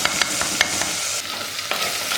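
Chicken curry masala is stirred and fried in a pan, with a steady loud sizzle under repeated scraping strokes of the spoon, close and continuous.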